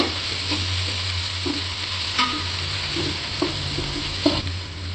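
Onions and small tomatoes sauté together in a pan for a Kerala-style fish head curry, a constant close sizzle broken by soft scraping knocks from stirring every second or so. No talking.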